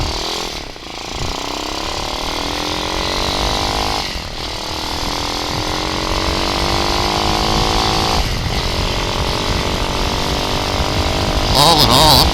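A Hawk 250 motorcycle ridden at speed, its engine droning loud and close, climbing in pitch and then dropping back at each of three gear shifts, with steady wind rush throughout.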